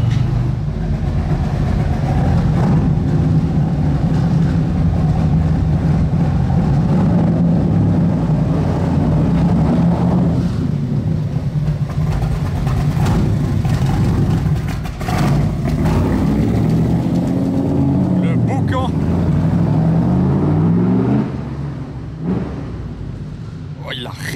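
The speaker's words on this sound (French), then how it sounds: "C'est quoi ce vrombissement là qui sort de sa tanière?" RUF SCR sports car roaring along a Monaco street, a loud sustained engine rumble that swells and holds, with the pitch sweeping up and down near the end before fading, under the echo of the surrounding street.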